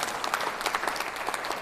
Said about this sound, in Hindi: तो क्या यीशु को ताली देंगे कि नहीं?